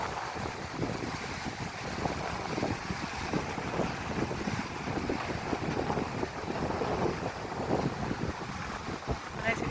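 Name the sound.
strong wind at the beach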